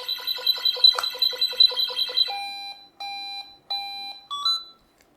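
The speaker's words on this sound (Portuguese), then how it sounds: "Esse alarme aqui, ó," Emergency tracking device sounding an SOS alarm: a rapid run of shrill electronic beeps gives way to longer spaced tones, loud and close, with no voices.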